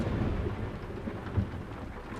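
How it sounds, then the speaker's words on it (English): Heavy rain and deep rumbling thunder from a nighttime storm in the truck-driving game Euro Truck Simulator 2, a dense continuous wash with a low rolling boom, no voices. "Raining and nighttime. And lightning out."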